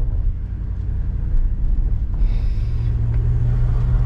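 A BMW M5 F10 with a V8 biturbo engine idles in a steady low rumble, with a faint turbo whine rising over the engine partway through, close and loud with no speech.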